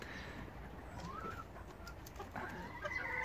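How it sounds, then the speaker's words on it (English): Chickens outdoors on a smallholding after snow cluck softly, with a few faint, close calls rising and falling against quiet background noise. "The chickens are loving it."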